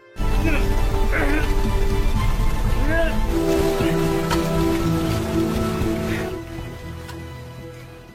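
Heavy rain pours down over the ruins of a collapsed apartment building, a loud, steady wash of downpour with voices and other sounds mixed in, easing somewhat toward the end.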